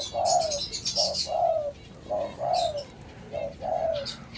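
A spotted dove coos in a series of soft, repeated low phrases, close by and alone, with slight pauses between calls.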